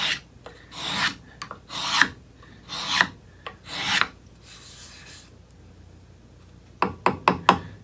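A Veritas miniature hand tool smooths cedar and lifts shavings, giving a run of loud, close rasping strokes in a steady rhythm, then a short pause and a quick cluster of four sharper strokes.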